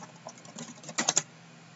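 Brief run of soft, close keyboard keystrokes, ending in a few louder clicks as someone types on a computer keyboard.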